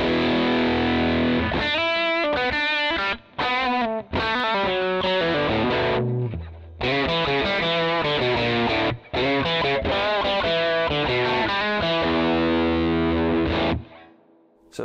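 Electric guitar played through a Yamaha THR10C practice amp with the gain turned up and chorus off, giving loud, distorted chords and riffs with brief pauses between phrases, played alone without talk.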